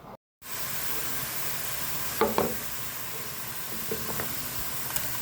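Curried goat with skin on steaming in a pot, giving a steady soft sizzle and hiss with a few faint clinks and knocks along the way.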